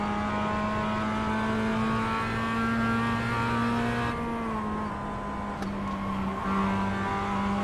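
Race car engines in the iRacing sim hum steadily at a sustained drone, shifting pitch slightly midway as the car changes speed, with other cars nearby and no talk over it.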